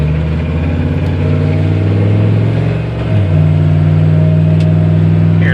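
A 1999 GMC Suburban SLT 4x4 turbo diesel drives down the road, its engine droning steadily, briefly easing off and then pulling harder as it accelerates, loud and close from inside the cab.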